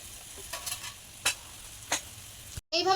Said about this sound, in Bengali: উনুনে আরেকটা কড়াই বসিয়ে তাতে ভালো করে তেলটা গরম করে নিয়ে এবার রসবড়াগুলো ভেজে নেব